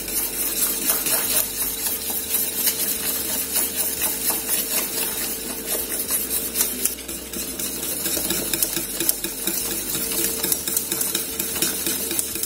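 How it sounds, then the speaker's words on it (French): A liquid is poured and stirred into a simmering pot while making Cameroonian couscous, giving a steady, dense wash of bubbling, hiss and scraping that stays loud and unbroken throughout, with no voices. "Et on verse en tournant."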